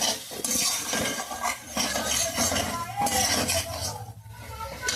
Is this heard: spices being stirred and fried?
yes